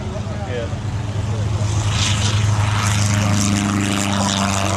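A light propeller aircraft taxis down the runway at an airshow, its engine drone steady and loud throughout, swelling slightly as it moves, with a voice commenting over it.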